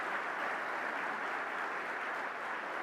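An audience at a university address applauds, giving an even, sustained roar of many hands clapping at moderate distance, steady from start to finish with no talking.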